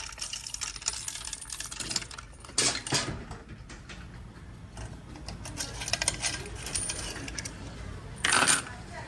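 Quarters and other coins pour into a coin cash-in machine, a continuous metallic clattering and jingling with louder bursts of cascading coins near the start and end, heard close up with no talk.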